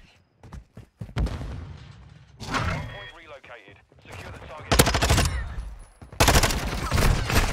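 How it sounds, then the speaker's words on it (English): Video game gunshots in a ranked duo match come in sharp bursts of rapid automatic fire, loud and close, with several separate volleys and a person talking between them. "Oh, I shot a body on accident."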